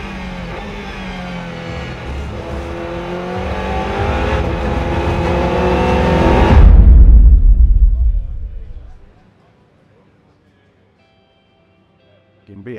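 Race cars, a Honda and an Aston Martin, roar past on a track, with engine noise building to a loud close pass and then fading quickly into near silence.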